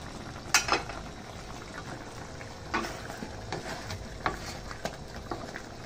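All-purpose cream and mushrooms simmer in a pan for creamy pork chop, a soft continuous bubbling and sizzle with a few sharper pops and clinks of stirring.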